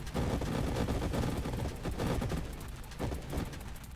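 Dense, continuous bullet fire from the space shooter game Nova Drift, a loud, unbroken barrage of rapid shots with no talking.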